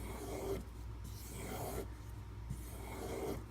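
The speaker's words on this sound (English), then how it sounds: "I'm going to hit this on the strop just 2 more times." A knife is drawn over a strop in a few soft, close strokes, a low continuous rubbing that swells and fades with each pass, without speech.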